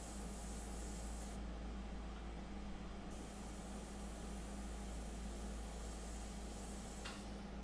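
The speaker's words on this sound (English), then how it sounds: "I can do that very quickly with the airbrush." Airbrush spraying pastel paint gives a steady, close hiss of air that runs unbroken throughout at even loudness, with no voices over it.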